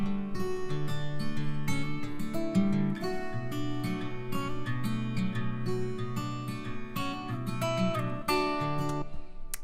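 A double-tracked acoustic guitar plays a sustained strummed intro with layered chords ringing steadily throughout. The playing is close, full and continuous, with no voices.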